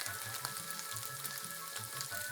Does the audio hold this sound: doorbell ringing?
no